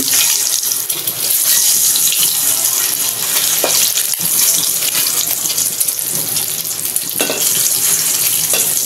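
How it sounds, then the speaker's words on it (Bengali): Hot oil sizzles loudly and steadily as an egg fries, a dense continuous crackle with no voices. "তেলটা গরম হয়ে গেছে, ডিমটা ছেড়ে দিচ্ছি"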